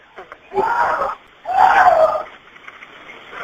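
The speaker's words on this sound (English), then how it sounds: "There's just someone screaming outside." A man screaming outside, captured faintly through a recorded 911 emergency call, with two drawn-out, strained cries of about half a second and one second separated by a short pause.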